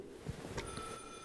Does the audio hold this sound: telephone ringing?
yes